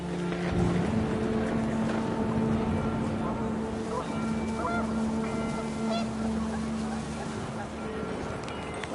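Geese honk in a flurry within a windy outdoor scene in the video game What Remains of Edith Finch, their calls mixed with a low droning engine-like hum and some voices underneath.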